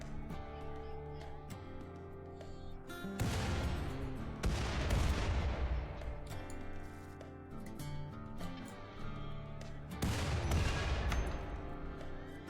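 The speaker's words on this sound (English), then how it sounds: "That's the power of mortars" Mortar fire in the colony-building game Rimworld: several heavy booming blasts and bursts of gunfire crash in close succession, each with a long rumbling decay, loud against a quieter background.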